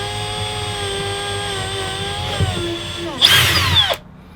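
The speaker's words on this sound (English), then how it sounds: "We'll drill a hole through there and we'll run the wires in." A power drill whines steadily, its pitch dropping as it bites in while drilling a hole for diesel heater wiring, then a loud grinding burst before it stops abruptly.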